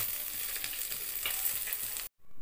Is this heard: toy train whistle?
no